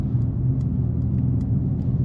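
A 2025 Mercedes-AMG E 53 Hybrid 4MATIC+ sedan with a 9-speed automatic drives at night, heard from inside as a steady low engine and road rumble with faint ticks above it, with no talk.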